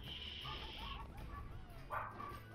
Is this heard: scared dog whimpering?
yes